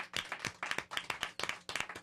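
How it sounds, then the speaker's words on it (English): Audience applause for a guest on a talk show, heard as sparse, irregular hand claps in distinct bursts, moderately close and fairly quiet, with no one speaking. "Let's clap it up for Mr. Brian Oxman"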